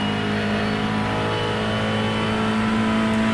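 A Ford Mustang GT3 race car at Summit Point in the iRacing sim holds a loud, steady engine note with layered harmonic whine, droning on without a pause.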